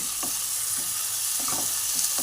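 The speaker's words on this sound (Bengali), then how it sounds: "ভেজে রাখা চিংড়ি মাছটা আমি এর মধ্যে দিয়ে দিলাম" Fried shrimp is stirred into a pumpkin and potato curry in a pan, with a dense continuous sizzle and soft scraping stir strokes close by. No voices are heard.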